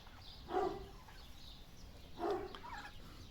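Turkeys on a farm gobble in two distinct bursts about two seconds apart, moderately close against quiet background noise.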